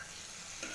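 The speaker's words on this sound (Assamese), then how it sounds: "এইখিনি এতিয়া ভালদৰে ভাজি ল'ম, ঢাকি ভাজি ল'ম ভালদৰে" Egg biryani frying in a pan with steady stirring, a continuous close sizzle running the whole time, with a slight scrape of the spoon near the end.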